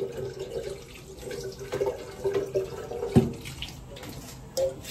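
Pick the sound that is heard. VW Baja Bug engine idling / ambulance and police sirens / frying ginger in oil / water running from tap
water running from tap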